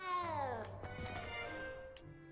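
A cat meows in the video game Hogwarts Legacy: one long, drawn-out meow with a falling pitch over steady game ambience, followed by a brief higher chirp near the end.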